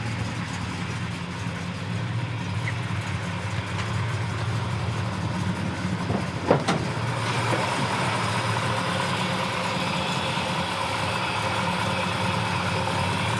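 A 1966 Chevelle's big-block 396 V8 engine idles steadily with a deep, rumbling low tone, constant and close throughout, with one brief click partway through.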